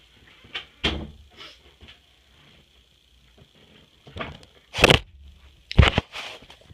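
A door is handled and shut with several close clicks, knocks and thumps scattered across the moment, the loudest bumps coming near the end.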